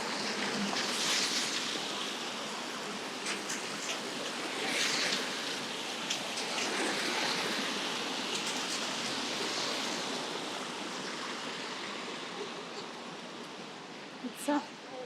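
Rain hisses steadily over wet winter city streets in Helsinki, a dense broadband wash throughout with occasional faint clicks and bumps.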